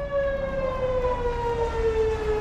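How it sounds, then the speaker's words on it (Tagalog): A loud civil-defense-style siren wails to warn of an approaching storm, a single sustained tone that slowly falls in pitch, with no voices. "Narinig niyo yung malakas na sirena."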